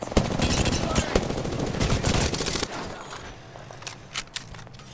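Rapid automatic gunfire rattles in Apex Legends, loud and dense for about two and a half seconds, then cuts to fainter scattered shots and clicks.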